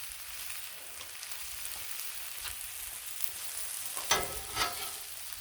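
Chicken smash burger patties sizzle on a Blackstone griddle, a steady close frying hiss throughout with a couple of sharp scraping or spatula clinks near the end; no talking.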